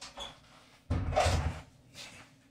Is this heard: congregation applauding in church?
no